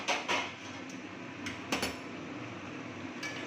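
A metal pot lid lifted off aloo dum masala as it cooks, a couple of clanks and clinks of metal on metal with a few lighter taps after, close by over faint background noise, no speech.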